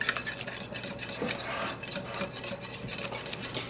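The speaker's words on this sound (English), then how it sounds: "So it's really important just to whisk that up, especially when you use yogurt." A whisk beats yogurt-based gluten-free, sugar-free pumpkin pie filling in a bowl, a soft, quiet run of rhythmic scraping and swishing.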